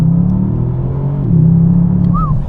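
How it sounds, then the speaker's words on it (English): A Bentley Continental GT S sports exhaust rumbles with a deep, bassy drone, the engine note rising slightly as it revs, loud and close. "you do get a new sports exhaust, which when you go into sport, drop it into manual, it definitely sounds better"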